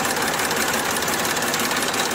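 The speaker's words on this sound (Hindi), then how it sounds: "और इस वाले ट्रैक्टर से हम बैठ गए" A tractor engine runs at a steady idle in Rajasthan, a continuous, fairly loud rumbling drone with no voices over it.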